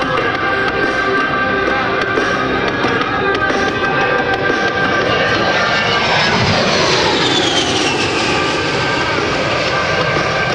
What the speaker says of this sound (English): Captain Green is now performing a jink-out maneuver that's designed to make life very difficult for enemy anti-aircraft gunners